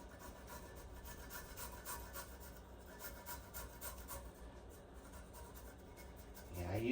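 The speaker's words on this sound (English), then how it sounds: "It's a great tool for grating garlic." Garlic is rubbed against a hand grater, giving quiet, rhythmic rasping strokes repeated steadily at close range.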